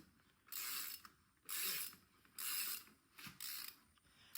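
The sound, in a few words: ratchet cranking during motorcycle rear tire removal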